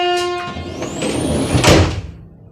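A passenger train door slides open with a rising mechanical whine, then a loud rushing rumble, close and alone with no voices.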